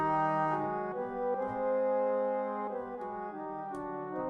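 Sustained Arabic-style orchestral strings play a slow, melodic phrase with sliding ornamented notes, soft and steady with no voices.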